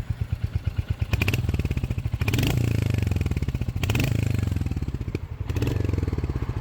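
A 2024 Royal Enfield Hunter 350 single-cylinder motorcycle idles with a steady thumping pulse, then takes a few light throttle blips that swell the engine note and settle back to idle, close and loud.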